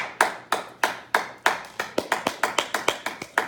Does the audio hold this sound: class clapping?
yes